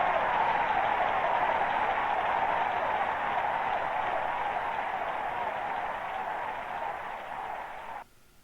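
A crowd cheers at the ending of a TMNT video game, a flat, noisy, synthesized roar held steady for about eight seconds before cutting off abruptly, retro-game sound with no talking.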